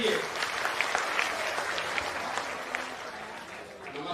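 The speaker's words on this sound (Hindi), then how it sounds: "अब एक बार जोरदार ताली बजाइए आदरणीय प्रधान जी के लिए" Crowd at an outdoor village political gathering in Bihar claps steadily for the village head, a dense, even applause lasting several seconds with no voices over it.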